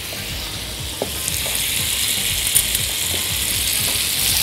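Butter sizzling and frying in a pan with mastic added, a steady close crackling hiss with occasional light clicks of stirring, no voices.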